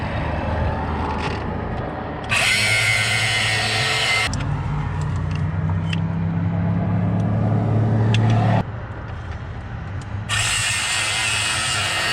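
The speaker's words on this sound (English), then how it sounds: "luckily we've got just enough room to hit that bolt with the grinder down here" An angle grinder cuts a bolt underneath a stranded car, with bursts of loud, harsh high-pitched grinding broken by a lower mechanical whir in between, heard close up with no talking.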